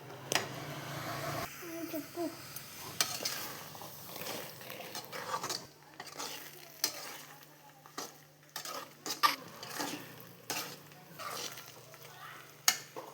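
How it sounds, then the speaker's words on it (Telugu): Tomatoes stirred and fried in oil until soft for a tomato chutney, a low sizzle under irregular scrapes, clinks and taps of a utensil against the pan, close and fairly quiet. "ఇలా ఆయిల్ సపరేట్ అయ్యేంత వరకు, టమోటాలు మగ్గేంత వరకు కలుపుతూ వేయించుకొని"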